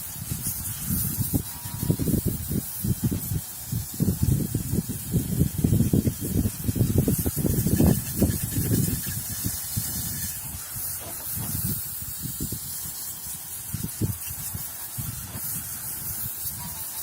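A hose or pressure sprayer rinses old iron degreaser foam and built-up brake dust off car wheels, a steady close hiss with bursts of splashing water that rise and fall over about seventeen seconds.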